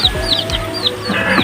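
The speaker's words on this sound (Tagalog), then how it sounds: "Ayun ang mga sisiw." Texas chickens and chicks in a coop cluck and peep nearby in quick, short bursts, loud and close with no talk.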